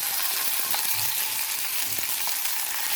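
Chicken sizzles steadily in a layer of hot olive oil in a pan, a continuous crackling hiss with a few soft pops, close and fairly loud with no voices.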